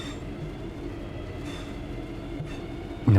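A train in Train Sim World 6 rolls along with a steady low rumble and faint rail noise, brief metallic bursts breaking through, and a sudden louder thump right at the end.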